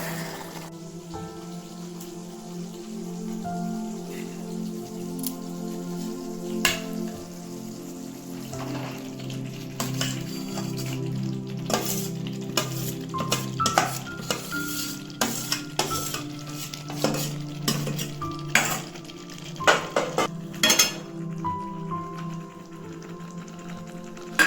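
Spiced meat is sautéed in a pan, a continuous close sizzle with repeated scraping and clinking of a spoon against the metal as it is stirred, busier toward the end.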